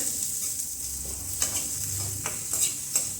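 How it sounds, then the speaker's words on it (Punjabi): Carrots, capsicum and chopped tomatoes stir-fried in a pan for pasta: a continuous sizzle broken by several sharp spatula scrapes and taps against the pan, close up, no talking. "ਹੁਣ ਆਪਾਂ ਨਾਲ ਹੀ ਸ਼ਿਮਲਾ ਮਿਰਚ ਤੇ ਜਿਹੜੇ ਆਪਾਂ ਚੌਪ ਕੀਤੇ ਸੀ ਟਮਾਟਰ ਇਹਨਾਂ ਨੂੰ ਪਾ ਦੇਵਾਂਗੇ ਤੇ ਮਿਕਸ ਕਰ ਦੇਵਾਂਗੇ"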